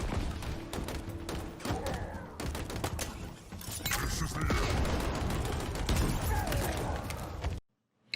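Sustained rapid automatic fire from the VK78 Commando rifle in the Halo Infinite campaign, dense and loud against Brute enemies, with impacts layered over music before a sudden cutoff.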